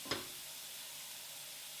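Food sautés in a pan, a steady broadband sizzle and hiss that follows a short clatter at the start and keeps a constant, moderately loud level throughout.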